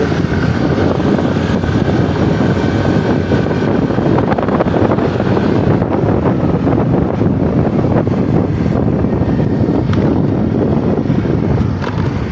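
Strong wind roars and buffets the microphone continuously while riding at speed across a bridge at Ragay, Camarines Sur, a dense rushing noise with no talking.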